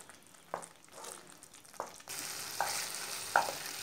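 Spice masala being stir-fried on high flame for restaurant-style chicken changezi, a steady close sizzle that jumps louder partway through, with a few scraping stirs of the spoon and no talking.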